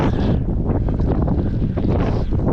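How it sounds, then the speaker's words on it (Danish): Strong wind buffets the microphone of a cyclist riding on the Kattegat coastal route, a loud, steady roar and rumble that fills the whole clip with no talking. "vinden har stået i vores fjæs hele dagen"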